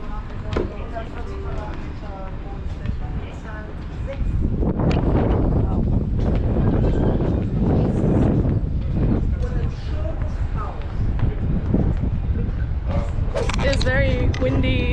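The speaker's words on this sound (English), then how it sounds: "It's very windy." Strong wind buffeting the microphone on a cruise ship deck, heavy low rumbling gusts that grow louder midway and stay constant, with people talking over it.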